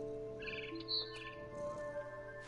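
Small birds chirp at a nest in the video game What Remains of Edith Finch, with short bright tweets repeating over a soft steady ambient hum, fairly close and moderate in level.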